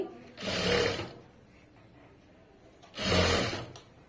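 Two short bursts of sewing machine stitching through fabric, separated by a quiet pause, each close and clear with a mechanical whirr.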